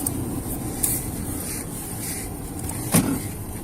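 A quiet car interior hums steadily, broken by a short mechanical whir and a soft clunk near the end, like a seat sliding back.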